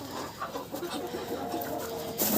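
Chickens and ducks in a farmyard, with clucking and short fowl calls coming repeatedly at moderate distance over a steady yard background, no talking.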